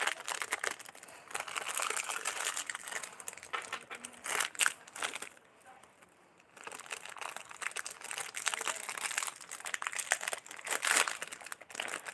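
A package of handmade sweets crinkles and rustles up close as it is pushed back in and torn, with steady plastic crackling interrupted by a short lull midway.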